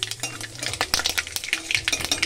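Mustard seeds and a dried red chili frying in hot oil left from frying fish, heard as crackles and pops mixed with scraping stirs of a utensil against the pan, close and busy.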